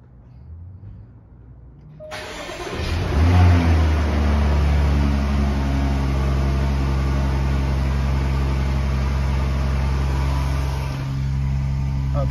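A Jaguar XJ L engine starts and settles into a steady, loud idle with a rev, heard close up from outside the car and dominating throughout after a quiet opening.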